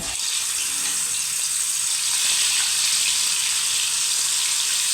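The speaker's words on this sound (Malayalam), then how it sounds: "ഇത് നന്നായിട്ട് മിക്സാക്കിയതിന് ശേഷം നമുക്ക് തേങ്ങാപ്പാൽ ഒഴിച്ചു കൊടുക്കാം." Coconut milk poured into biryani masala in a hot pan, a loud, continuous hissing sizzle that holds steady without a break.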